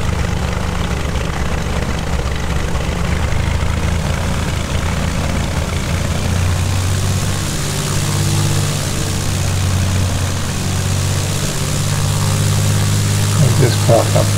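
Cessna 172 propeller airplane taxiing slowly near hangars, a steady droning engine and propeller hum held at low power throughout, loud and close, with a brief higher squeal near the end.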